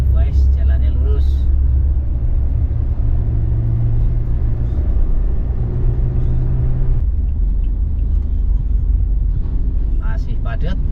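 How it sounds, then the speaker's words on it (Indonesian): Dense traffic with many large trucks and buses on the Pantura road between Cirebon and Brebes near Losari: a loud, constant low rumble of heavy engines close by, with shifting tones as vehicles pass. "Masih padat, kendaraan besar juga masih banyak."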